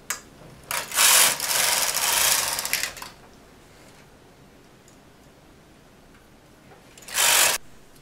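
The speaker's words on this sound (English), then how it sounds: "Now I'm going to thread the carriage with the red yarn and knit two rows." A knitting machine carriage pulled across the needle bed knitting red yarn, two rasping sliding passes, one long sweep early and a shorter one near the end, with quiet pauses between.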